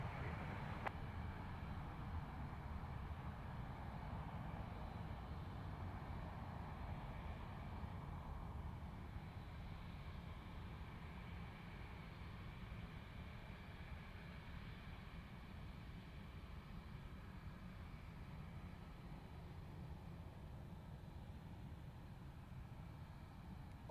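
Airplane landing at Luton Airport at sunset, heard as a distant, steady low engine rumble and roar that holds throughout at a faint level.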